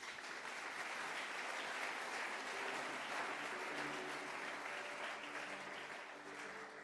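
A church congregation applauding during a worship service, a sustained dense clapping from many hands that fades slightly at the end.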